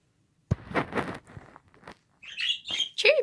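A pet bird calls close by with a few sharp chirps and squawks at the end, after some soft shuffling or footstep-like sounds, with no talk.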